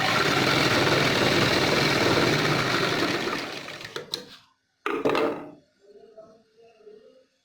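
Sewing machine running a seam along an orange fabric strip for a back neck design, a loud steady whir for about four seconds, then short bursts before stopping, followed by faint low voices.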